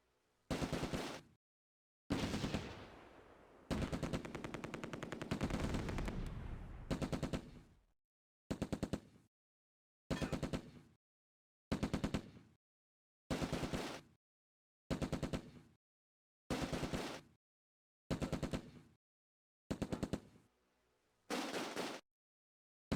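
Machine gun fire in the Close Combat war game: loud, close, sustained bursts early on, then a regular series of short, evenly spaced volleys separated by near silence, with no voices.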